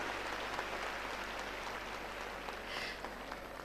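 Audience applause fills a hall at an Indian community event. A steady wash of clapping runs at even loudness for the whole stretch, with no voices over it.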